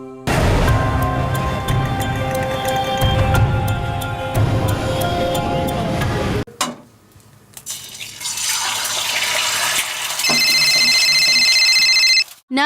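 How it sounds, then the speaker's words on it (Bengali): A telephone rings in a TV crime drama scene, loud electronic ringing tones repeating over a music bed, then a quieter stretch before the ringing returns strongly near the end. "এই দেখ না তোর ফোন এসছে।"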